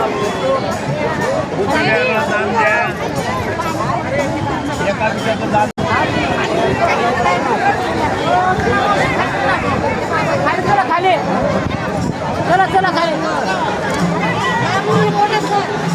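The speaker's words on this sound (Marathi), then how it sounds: "गर्दी आहे भरपूर" A large crowd chattering at Chavdar Lake in Mahad, a dense, loud, continuous babble of many voices close around, with nearby speech mixed in.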